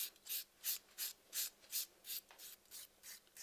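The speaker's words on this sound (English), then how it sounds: "So I'm going to take the 180 grit file and just rebuff that." A 180 grit file rubs across a natural nail in about a dozen quick, regular strokes, each a soft, close rasp with a brief pause between, alone and quiet.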